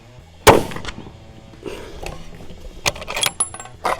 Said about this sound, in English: Every time I shoot, the recoil is so strong it releases the magazine and it falls down.